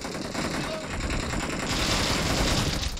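Rapid gunfire from a BGMI mobile battle royale match rattles continuously for about three seconds, dense overlapping shots with no pause, loud and close.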